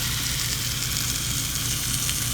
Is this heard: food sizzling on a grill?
yes